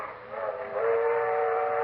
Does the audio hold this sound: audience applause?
no